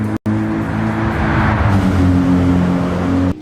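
A car's engine revs up and accelerates as the driver puts a foot down, a steady, loud, close drone that holds its pitch for a few seconds before dropping off, with no talk.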